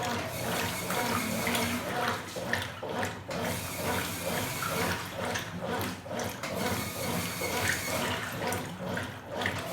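Washing machine churning with water only, a continuous dense rush and slosh of water running steadily throughout, fairly loud and close, with no clear speech over it.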